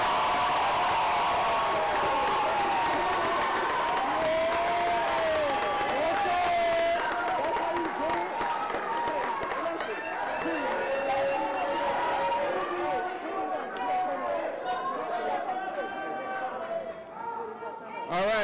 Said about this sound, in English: please, please, one more rousing applause for our graduates of